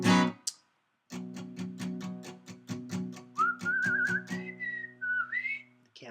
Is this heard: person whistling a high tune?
yes